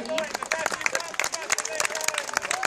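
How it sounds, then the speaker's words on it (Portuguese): Hands clap in quick, uneven bursts as people applaud animals being let out at the children's farm in Beacon Hill Park, with close chatter and voices mixed throughout. "E a gente está batendo palmas para os animais poderem ir."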